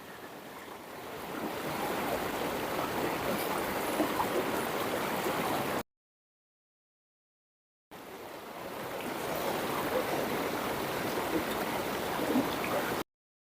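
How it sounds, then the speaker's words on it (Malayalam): River water flows past a floating dining spot, a steady broad rushing wash with some wind on the microphone, continuous in two stretches separated by a silent gap, no voices. "ഈ പുഴയുടെ ആംബിയൻസിൽ അങ്ങോട്ട് കഴിക്കുക"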